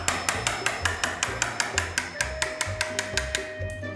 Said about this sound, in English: So this is just about being patient with your chisel